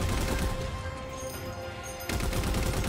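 Sustained gunfire in Halo 4 Spartan Ops, rapid bursts of automatic shots rattling loud and close, pausing briefly before another dense burst kicks in.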